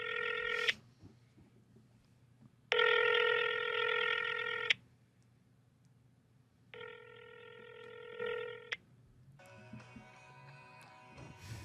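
A telephone dials a pager number: bursts of steady electronic tones separated by silences, then a higher, busier tone pattern, all clear and close over faint background hum.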